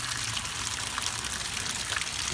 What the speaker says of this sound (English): That's draining out the water heater, so I'm going to let that drain.